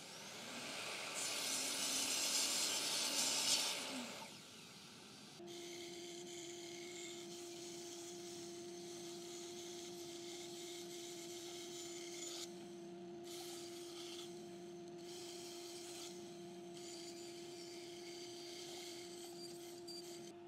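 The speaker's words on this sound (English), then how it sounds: "I'm gonna take this to the bandsaw to cut it out" A bandsaw cuts out a timber piece for a hand mirror made with an acrylic template. A louder burst of cutting noise comes first, then the motor settles into a steady, moderately faint humming whine with no talking.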